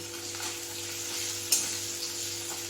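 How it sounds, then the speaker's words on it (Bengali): Salted onion frying in a pan for a Bengali fish curry, a continuous close sizzle with one brief scrape of stirring near the middle and no voices. "পেঁয়াজটা ভাজা হয়ে গেছে"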